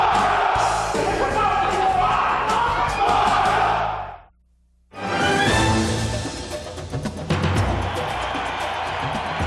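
A sellout crowd roars at the Holiday Bowl in Qualcomm Stadium during an Oregon Ducks football game, a loud, dense wall of yelling that drops out briefly midway, then surges back.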